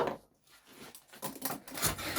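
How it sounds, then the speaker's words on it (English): A hand saw rasps back and forth across the corner of a wooden joiner's mallet, trimming a little off. It sounds like several close, scratchy strokes in an uneven rhythm, with no talking. "the sawing motion, you see it's taking a little bit off that corner"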